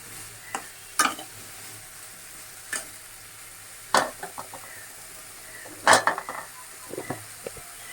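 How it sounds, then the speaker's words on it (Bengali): Pumpkin, pointed gourd and other vegetables frying in a pan and being stirred, with a low steady sizzle broken by sharp scraping clacks of the spoon against the pan every second or so, no voices. "এটার ভিতর দিয়ে দিলাম একসঙ্গে এটা ভাজা হয়ে যাবে"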